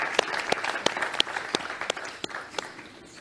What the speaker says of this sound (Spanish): Un fuerte aplauso entonces, por favor, para esta funcionaria de la Cruz Roja Costarricense